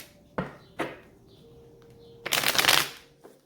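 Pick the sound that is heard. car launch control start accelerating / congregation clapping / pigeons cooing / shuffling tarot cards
shuffling tarot cards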